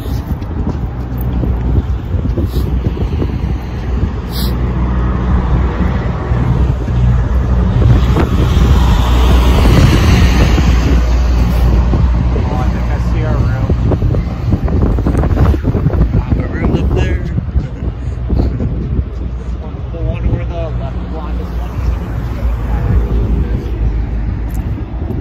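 Strong outdoor wind buffets the microphone in a loud, steady roar that swells and eases for the whole stretch, with a few brief voices and the bustle of people walking outside a convention.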